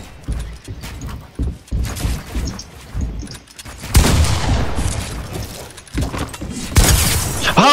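Shotgun fire in the video game Fortnite: a few sharp, loud blasts and bursts, with the densest ones near the middle and the end, among clattering game effects.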